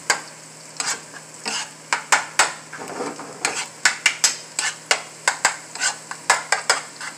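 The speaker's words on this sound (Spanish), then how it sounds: "Lo vamos a batir, amigos, porque no quiero que quede como un huevo en torta, sino que quiero que quede como un huevo frito." A fork or whisk beats an egg for shrimp rice, quick sharp clinks against the bowl repeating in uneven bursts close to the microphone, with a faint sizzle underneath and no talking.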